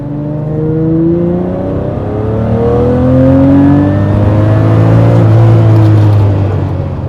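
A Lamborghini Murciélago engine revs hard under full throttle, traction control struggling for grip on a dry road, its rising drone climbing steadily through the gears, loud and close for several seconds.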